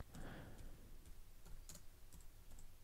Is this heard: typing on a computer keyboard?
yes